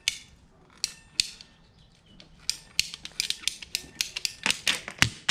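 A hand crank cutter ratchets through pipe, giving sharp, clicking snaps that start sparse and speed up into a dense run of close, crisp clicks near the end.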